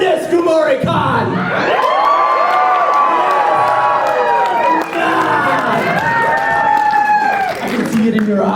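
Convention crowd at KumoriCon cheering, whooping and screaming loudly and continuously, with a loud amplified voice shouting over the noise throughout.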